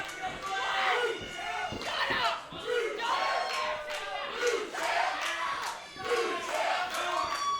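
A wrestling crowd in Florence jeers and chants at the champion during a New South match, loud rhythmic waves of shouting voices that swell and fall repeatedly throughout.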